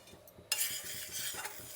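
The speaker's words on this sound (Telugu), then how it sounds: "ఇప్పుడు కందిపప్పు, ఉద్దిపప్పు, పచ్చనిపప్పు ఒకేసారి వేసి వేయించుకుందామండి" Toor, urad and moong dal dry-roasting together in a pan while being stirred: a quiet rustle at first, then a steady, close dry scraping and grainy rattle from about midway on, with no talking.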